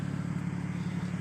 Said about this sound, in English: The exhaust sounds fantastic.